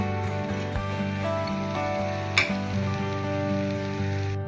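A steady, close sizzle of raw mango and spinach curry sautéing in a pan, with a faint hum beneath and a single sharp clink partway through.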